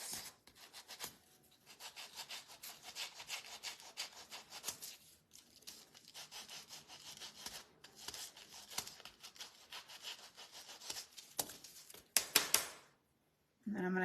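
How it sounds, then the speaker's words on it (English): Sanding wood shelf pieces by hand, a steady back-and-forth rasping rub in quick repeated strokes, close and fairly quiet, with a short louder scrape near the end. "I'm going to sand these."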